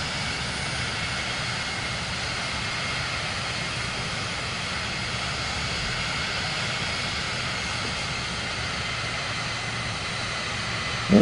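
Sustained aircraft engine drone in Microsoft Flight Simulator 2024 as the throttle is pulled back on approach, a steady broadband roar with layered tonal bands, fairly loud and even throughout with no talk.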